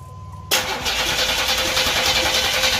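A 1986 Oldsmobile Cutlass 231 V6, just fitted with a rebuilt two-barrel Dualjet carburetor and a new fuel pump, cranks briefly and then catches, settling into a loud, steady idle close by without any voices.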